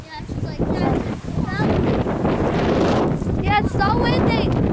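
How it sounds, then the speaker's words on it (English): Loud, rumbling hurricane wind buffets the microphone throughout, with people talking over the gusty roar. "that was the wind, that was the wind on me"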